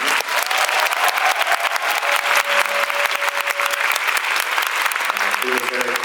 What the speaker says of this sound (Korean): 이분께 박수 한 번 더 주시겠어요?